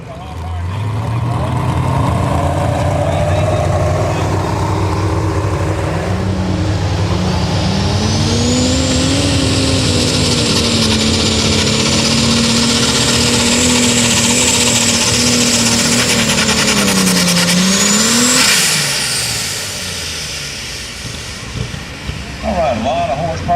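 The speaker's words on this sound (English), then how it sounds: "a lot of horsepower and a lot of wheel speed out of that tractor right there" An alcohol-fueled pulling tractor roars at full throttle with wheels spinning at an NTPA tractor pull in Hopkinsville, Kentucky, its engine screaming loud and sustained for about twenty seconds before easing off, with an announcer talking over it.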